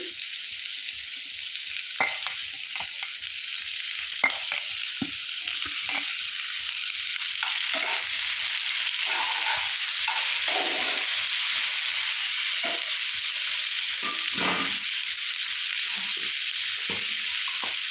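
Tomato and green chilli frying in a pan for pasta, a steady bright sizzle punctuated by repeated scraping and clinking as a spoon stirs, close and continuous without speech.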